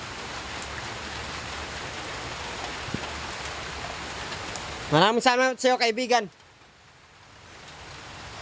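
Heavy rain pours steadily as a continuous hiss, then someone speaks briefly over it and the downpour continues, fainter, after he stops.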